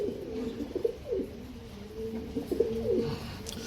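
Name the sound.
Ambarsary pigeons cooing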